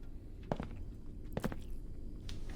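A few soft, muffled footsteps of a character walking in a video game, spaced apart, against a steady low background hum, with no talking.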